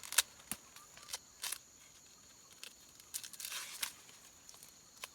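Husks are peeled by hand from fresh corn cobs just picked from a garden, several short, close tearing rips separated by quiet pauses.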